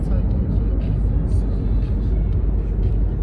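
A car drives through a town on a winter road in Turkey, giving a steady low engine and road rumble that stays constant and close throughout, with no talk.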